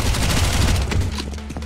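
Rapid gunfire in the video game Counter-Strike, a dense loud burst of overlapping shots close up, filling the whole moment without talk.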